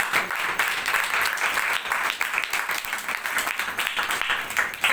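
A church congregation claps in praise of Jesus during a sermon, sustained, fairly faint applause from a crowd with a steady, even texture throughout and no voices over it.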